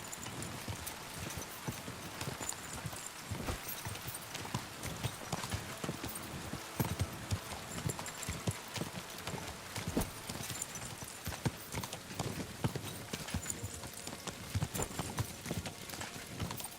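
Rapid drumming of horse hooves galloping in the video game Kingdom Come: Deliverance II, a continuous rhythmic clatter up close, steady throughout.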